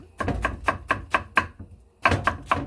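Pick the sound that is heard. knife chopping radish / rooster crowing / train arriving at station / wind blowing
knife chopping radish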